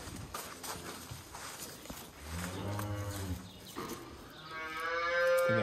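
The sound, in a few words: cow mooing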